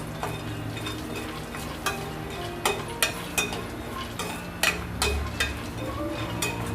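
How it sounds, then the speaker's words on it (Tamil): Dry nuts for dates-and-nuts laddu being dry-fried and stirred in a pan over a low flame, giving a soft steady sizzle broken by scattered clicks and scrapes of a spoon against the pan. "இது எல்லாமே போட்டு ஜஸ்ட் ஒரு 1 மினிட் இப்படி ஃப்ரை பண்ணிக்கலாம்"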